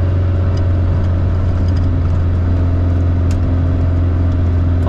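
A 1965 Volkswagen Beetle drives along with its air-cooled engine humming in a steady, loud, low drone, close up and without any voices.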